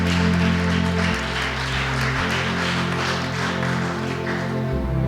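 A church congregation at a worship and healing prayer service at St. Adrian's Church, Dhamola, claps loudly and steadily throughout, the dense applause running over a sustained low organ-like drone.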